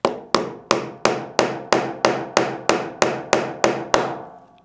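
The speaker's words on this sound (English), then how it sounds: "put your 3/32 inch pin punch on the end and give it sharp raps to get it to seat" Sharp metallic raps from a 3/32 inch pin punch seating a pin in an FN 509 pistol frame: about thirteen evenly spaced strikes, close and clear, each with a brief ringing decay.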